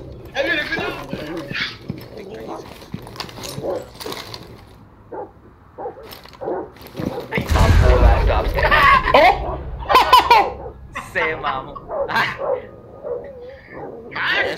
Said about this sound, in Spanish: Esos pinches perros no se callan.